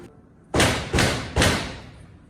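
Three heavy knocks on a door sound during a stage performance of Macbeth, each a loud, booming thud with a short decay, evenly spaced about half a second apart, with no talk.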